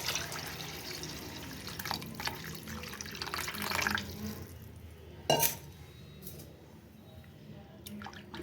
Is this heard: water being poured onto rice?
yes